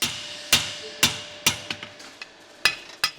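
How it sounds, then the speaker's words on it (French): Hammer blows on an anvil as a blacksmith shapes iron heated to 800–1200 degrees, sharp ringing strikes in an uneven rhythm, some heavy and some lighter rebounds, close and loud. "je vais chauffer entre 800 et 1200 degrés, la travailler à l'enclume et au marteau pour lui donner la forme souhaitée"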